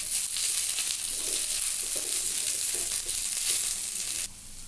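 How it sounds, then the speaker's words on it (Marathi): Chopped coriander frying with browned onion, garlic and ginger in a pan sizzles steadily with a bright hiss, occasional stirring scrapes, then drops off suddenly near the end. "त्यात कोथिंबीर घालूया, थोडीशी परतून घेऊया।"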